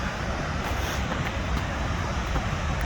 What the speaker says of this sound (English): Look at the size of that water cascading down.